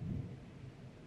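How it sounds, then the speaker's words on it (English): Rain and rolling thunder outside a home during a thunderstorm, a steady low rumble with hissing rainfall, heard faintly at a distance with no talking. "I don't know if y'all can hear the rain outside."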